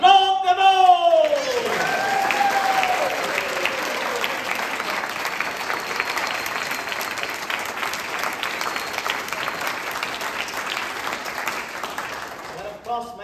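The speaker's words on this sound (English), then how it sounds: "let us applaud them all!" An audience applauds soldiers, sailors and Marines at a bicentennial farewell tour celebration honoring General Lafayette in Belchertown; a voice trails off at the start, then sustained clapping carries on steadily.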